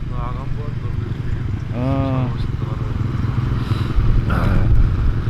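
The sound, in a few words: motorcycle engine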